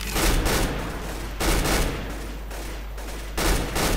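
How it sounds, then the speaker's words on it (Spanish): In Counter-Strike: Global Offensive, a Negev machine gun fires in dense, continuous bursts, loud and close, with brief gaps between sustained strings of rapid shots and no voices. "voy a bajar un poco el volumen porque la Negev hace pila de ruido"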